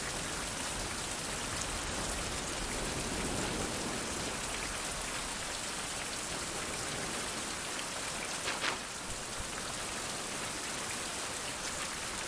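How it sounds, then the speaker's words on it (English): Steady, dense rainfall in the Survival: Fountain of Youth game, a continuous even hiss of drops pattering on surfaces, unbroken across the whole clip with no voices. "it started raining."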